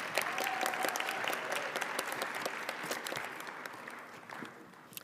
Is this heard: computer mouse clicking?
no